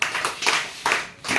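Short bursts of hand clapping from a church congregation acclaiming Jesus Christ, four quick uneven rounds of applause close by, each fading briefly before the next.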